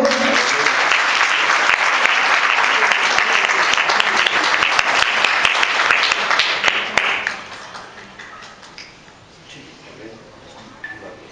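Loud, dense applause from wedding guests at a nikah ceremony, sustained for about seven seconds before fading into quieter scattered claps and room noise.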